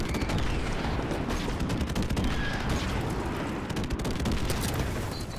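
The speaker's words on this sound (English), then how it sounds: "There's another airstrike coming out now." Airstrike explosions and heavy gunfire rumble loud and nonstop in a Call of Duty Modern Warfare Remastered multiplayer match, dense overlapping blasts and rattling bursts with no voices over them.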